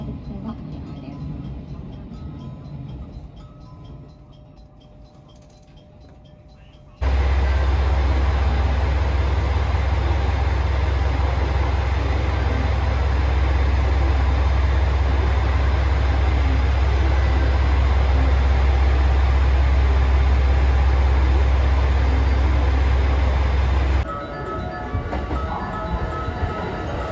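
A rapid train pulls into a Japanese railway station, with a loud, sustained low rumble and rolling wheel noise building to a roar. Station announcements play over the train.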